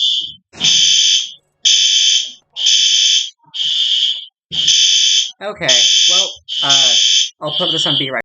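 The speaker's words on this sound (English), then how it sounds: "Oh, that's the fire alarm." A fire alarm sounds in a repeating pattern of loud electronic beeps with short gaps, while someone talks over the later beeps.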